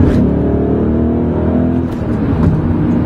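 BMW E39 M5 engine rumbling and revving steadily up close during clutch take-up, a throaty drone with rising pushes of power near the end.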